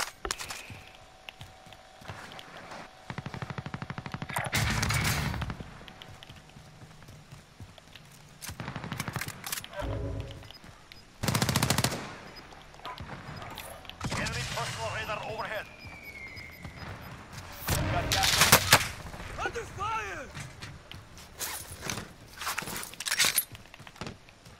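Bursts of automatic gunfire in Call of Duty: Modern Warfare, spread across the round in several loud volleys with footsteps and quieter gaps between them, and players talking over the action.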